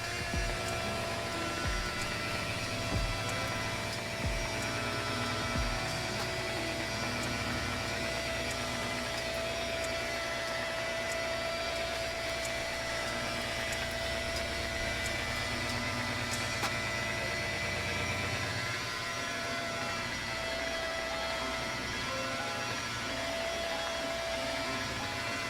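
A buffing machine runs on a non-skid boat deck during buffing and waxing: a continuous loud motor whine and hum, steady throughout, with some low thumps at the start and no talking.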